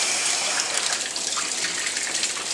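A water-pressure sausage stuffer runs with a steady, loud gush of rushing water, continuous for the whole few seconds with no voices.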